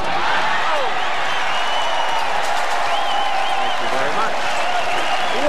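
A crowd applauds at the 1996 PBA National Championship bowling event, sustained clapping and cheering filling the hall as a commentator talks over it.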